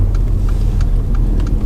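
A Mercedes-AMG A45 engine hums and builds in a low, steady drone, revving up as the car accelerates, with faint ticks over the top.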